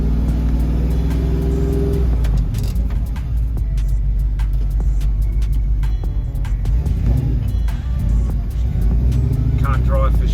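A 1974 Ford F250 Highboy truck drives down the road, heard from inside as a loud, continuous engine drone and road rumble throughout, with a voice faintly under the noise.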